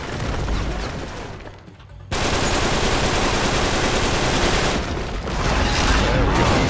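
Sustained automatic gunfire in the video game Uncharted 3: Drake's Deception, loud and continuous with a brief drop near the start, rapid bursts of shots and booms filling the scene.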